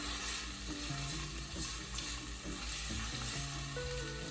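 Shredded chicken sautés in a pan, with a steady, close sizzle of frying that goes on without a break, stirring noises on top, and a faint tonal hum underneath.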